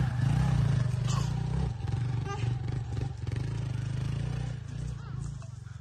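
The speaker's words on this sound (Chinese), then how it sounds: "这个越野摩托可以" An off-road motorcycle engine drones steadily while climbing a steep hill, a continuous low growl with brief dips and surges as it labours upward, with people talking over it nearby.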